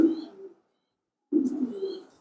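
Racing pigeon in a loft gives two low cooing phrases separated by a short pause, close and clear with no talking.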